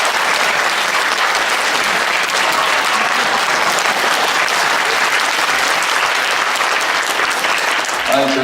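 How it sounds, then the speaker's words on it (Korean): A lecture audience at a Busan District Court continuing-education course claps together in dense, steady applause that holds at an even, loud level for the whole stretch, with no voices rising above it. "이럴 때 박수 한번 치는 거예요."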